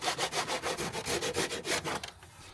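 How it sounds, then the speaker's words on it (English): A drywall rasp is pushed in quick, rhythmic strokes across wood being shaped for a gate, about a dozen rough scraping passes close up before it stops. "This is technically called a drywall rasp."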